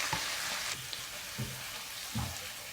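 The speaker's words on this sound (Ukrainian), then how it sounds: "і смажу все до готовності" Minced chicken with onion and carrot sizzles and crackles in a hot pan, a steady close frying hiss with a few soft scraping thumps from stirring.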